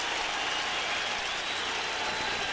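At a 1999 NFL football game between the Giants and the Patriots, a stadium crowd roars in approval of a challenge decision. The cheering is a broad, sustained wash of noise, distant and steady.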